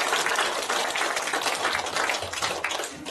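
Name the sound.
audience applause for lecturer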